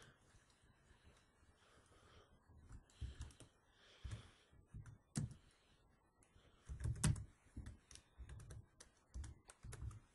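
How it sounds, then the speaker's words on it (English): Quiet keyboard typing, irregular bursts of soft key clicks and thumps, close by with pauses between flurries. "Sorry about typing again."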